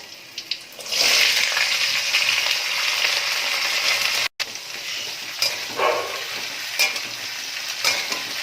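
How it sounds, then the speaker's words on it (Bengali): Yardlong beans, potato and onion hit hot oil with a loud, steady sizzle that hisses on for several seconds, broken by a brief drop and scraping stirs, with no voices. "এবার বরবটি আলু পেঁয়াজ যেটা কেটে নিয়েছিলাম সেটা এর মধ্যে দিয়ে দেব"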